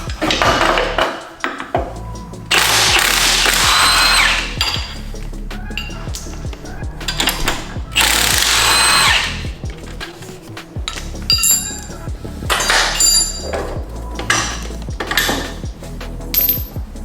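A 19 mm wrench works loose the thrust arm and control arm on a Genesis Coupe's suspension during an angle kit install, with repeated metallic clinks and clanks of tool on steel parts, close and fairly loud.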